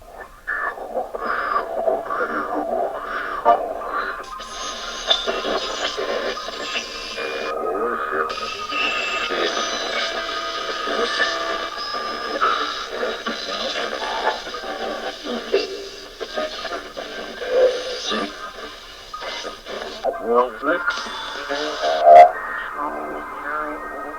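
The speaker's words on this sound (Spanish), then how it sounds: "Tan solo se escuchaba interferencia." Radio interference crackles and warbles, a continuous band of static with fluctuating squeals, garbled fragments and bursts of noise, steady at moderate loudness for the whole stretch.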